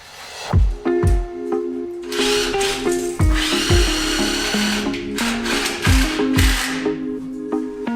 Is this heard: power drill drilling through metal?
yes